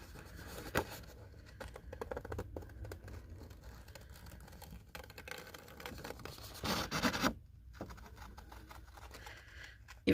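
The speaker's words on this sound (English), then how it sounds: "Then we're going to take our scissors right around this edge." Scissors snip and scrape through paper in quick, uneven bursts, close by, with a louder stretch partway through and no voices.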